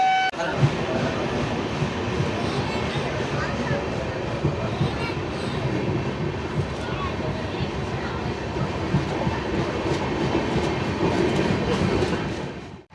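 The Shalimar–Puri Jagannath Express rumbles and clatters steadily and loudly throughout at Jaleswar station, Odisha, with rhythmic rail clicks and brief voices in the background.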